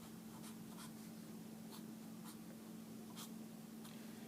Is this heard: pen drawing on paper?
yes